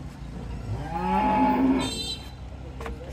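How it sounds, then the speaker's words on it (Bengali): A Holstein Friesian bull moos once in a long, loud, drawn-out low call rising and falling over about a second, heard close with a faint farm background. "দর্শক দেখতে পাচ্ছেন খুবই চমৎকার কোয়ালিটির একটা ষাঁড় গরু যাচ্ছে"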